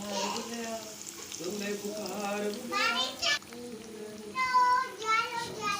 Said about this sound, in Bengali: এদিকে আলুগুলোকে ভেজে নিচ্ছি।